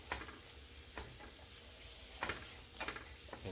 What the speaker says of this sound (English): take the seasoning, sprinkle that all over everything, stir it up till it's warm